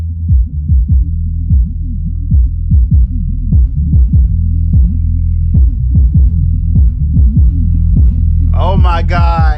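Deep, booming bass pours from folded horn subwoofers, CV EL-36C against EV EKX 18SP, with a heavy sustained low drone and rhythmic thumping pulses, loud and close, and a voice breaks in briefly at the end.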